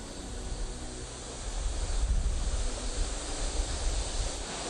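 Rough seas by a boat near a remote island coast, a dense rushing roar of surf swelling slightly in the middle, broadband and steady with wind-like noise, no voices.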